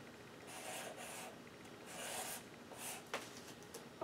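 Pencil sketching on paper, soft scratchy strokes in short bursts with small pauses between them, faint and close, ending with a light tap.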